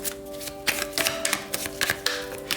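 Tarot cards being shuffled by hand, a run of quick papery flicks and snaps in bursts, close and clear over a steady background hum.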